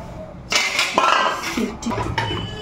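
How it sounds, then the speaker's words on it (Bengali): Metal cooking pots and woks clank and scrape close by in bursts, with clinks and rubbing as they are scrubbed and shifted. "রান্নার কড়াই ঠড়াইগুলো মেজে নিই"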